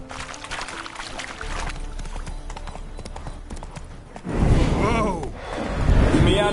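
Horse hooves clip-clopping on the ground in The Witcher 3: Wild Hunt, a steady close rhythm of hoof beats that grows louder and heavier partway through, with a ringing, swooshing effect over the later steps.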